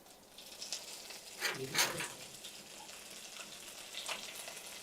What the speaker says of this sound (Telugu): సో గురుజీ, పోపు చేద్దాం. ఆవాలు వేస్తాము.